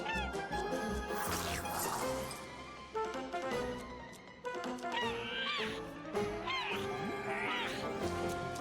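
Seagull calls in a seagull simulator video game, repeated squawking cries over busy game music and sound effects, moderately close, with crashing hits mixed in.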